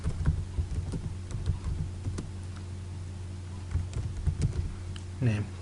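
Keys clatter on a computer keyboard in uneven bursts of typing with short pauses, close and moderately loud, and a brief voice comes in near the end.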